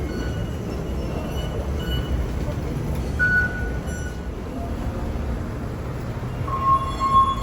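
A Hong Kong MTR subway train at Quarry Bay station gives a continuous low rumble with faint squeals over it, heard from on board at a steady, moderate level.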